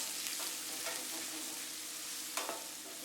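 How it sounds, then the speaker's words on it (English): Garlic and ginger paste sautés in a hot pan before minced meat goes in, a soft continuous sizzle with a few light stirring scrapes, close and quiet. "are going to add in our garlic and ginger paste and saute for a little bit"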